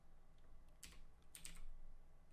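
Soft, quiet keystrokes on a computer keyboard come in two short bursts, with a brief pause between them, against a faint background hum.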